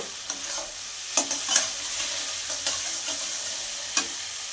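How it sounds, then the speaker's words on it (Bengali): A paste of white mustard and poppy seeds is stir-fried in a pan for a mourala river fish chochchori with potato and bori. A soft, continuous sizzle is punctuated by scattered scraping clicks of the spatula. "পোস্ত বাটাটা দিয়ে কিছুক্ষণ কষিয়ে নেব।"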